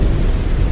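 Heavy rain pours down in a steady, dense roar of downpour that fills the whole moment evenly and loudly, with no pauses and no voices.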